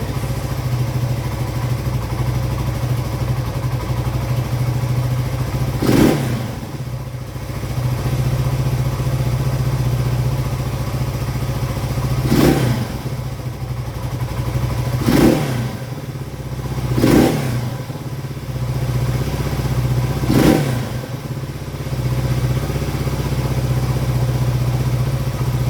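A 1982 Yamaha XT200 motorcycle engine idles steadily for a long stretch, close and loud with a constant low putter, broken by a few brief blips or revs spaced several seconds apart.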